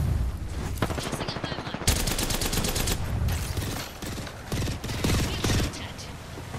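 Gunfire in the video game Apex Legends, rapid bursts of shots in dense repeating volleys, loud and close, continuing through the whole stretch with a brief pause near the middle.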